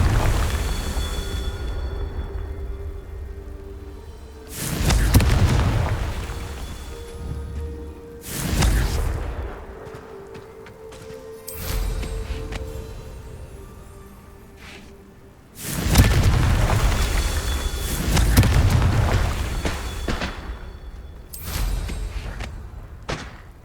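Repeated booming blasts from the Confringo fire spell in Hogwarts Legacy on PC, several loud thuds with whooshing tails spaced a few seconds apart over a low game ambience and music.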